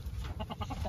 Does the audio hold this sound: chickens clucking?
yes